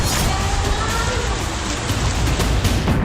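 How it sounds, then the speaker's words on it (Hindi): Rain falling in Gaza, a dense, steady hiss of drops on surfaces that stays loud and even throughout, with no voices. "गाजा में बारिश सर्दियों की दस्तक दे रही है"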